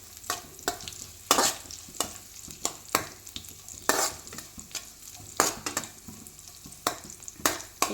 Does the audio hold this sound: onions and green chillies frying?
yes